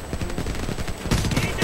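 Gunfire in the shooter video game Homefront, including a powerful pistol, bursts out as rapid cracks and volleys that grow louder and denser toward the end.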